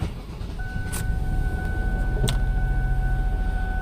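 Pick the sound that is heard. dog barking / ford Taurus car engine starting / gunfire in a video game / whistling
ford Taurus car engine starting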